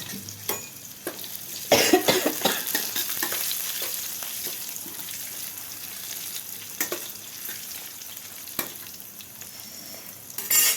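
Fennel and whole coriander seeds frying in a pan, a continuous close sizzle punctuated by clinks and scrapes of a utensil stirring, with a couple of louder knocks against the pan.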